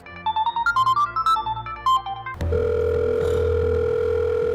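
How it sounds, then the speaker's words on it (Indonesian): A phone plays a short melodic ringtone, then switches to a steady continuous dial tone as the call goes unanswered. Both sound loud and close, with no voices. "Nggak diangkat lagi teleponnya."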